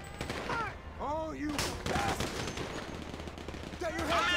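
Gunfire in GTA 5 during a firefight, with repeated shots and bursts at close range over an ongoing game soundscape, while someone talks over it throughout.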